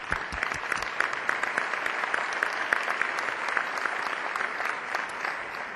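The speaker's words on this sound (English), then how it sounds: "Let's give them a round of applause." Steady audience applause at an annual partnership meeting greeting newly announced members, a sustained wash of many hands clapping at moderate distance throughout.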